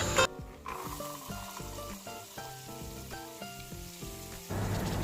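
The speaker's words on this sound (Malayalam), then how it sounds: "ഇനി ഇതെല്ലാം ഒന്ന് മിക്സ് ചെയ്തതിന് ശേഷം നമുക്ക് ഇതിലോട്ട് ബീൻസ് ഇടാം." Green beans for a Kerala mezhukkupuratti stir-fry hit a hot pan with a burst of sizzling, then steady frying crackle mixed with repeated scraping and stirring sounds, close and fairly quiet.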